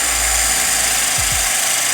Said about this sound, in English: We're asking him to drill a hole here